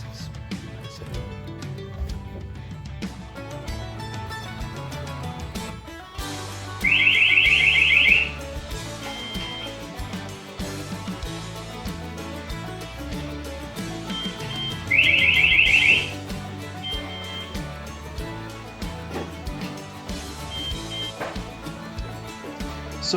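An STI 6400 door security alarm gives two loud, piercing bursts of about a second each, set well apart, over a steady background of music.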